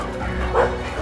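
An excited dog, full of energy and eager to go out, lets out a short yipping bark that rises briefly, close and fairly loud, with no speech over it.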